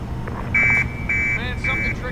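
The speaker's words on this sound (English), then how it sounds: "something triggered an alarm" An alarm triggered inside the Hitman video game: a steady high electronic tone sounds in repeated long bursts with brief warbling gaps, loud over low game ambience and faint background voices.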